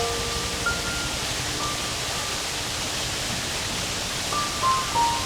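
A waterfall in a Tokyo park pours in a steady, broad wash of rushing water that is even and continuous, with faint bird calls scattered over it.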